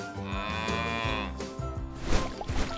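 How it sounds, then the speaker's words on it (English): Cattle mooing in a long, drawn-out low call with harmonic bands, steady and close, followed by a second rougher moo near the end, with no talk. "And lastly, cows."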